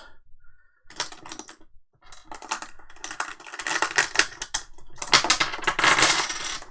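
Arkham Horror board game tokens are handled up close, with bursts of crisp plastic clicks and clatters growing busier and denser, and no talking.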